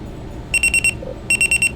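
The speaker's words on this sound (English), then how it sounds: "Oh yeah, alarm clock." Alarm clock in a video game, ringing in two quick bursts of four sharp electronic beeps each, clear and close, with no talking.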